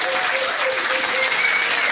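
A pub trivia quiz audience applauds in a dense, continuous wash of clapping, steady and fairly loud throughout, with no break.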